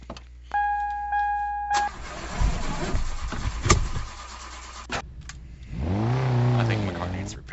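A Toyota in a roleplay driving game: door chime tones, then the engine cranks and starts and revs up as it pulls away, with a spoken voice over part of it.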